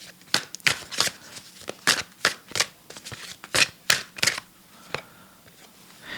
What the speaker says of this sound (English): Show me a card for Princess Mary.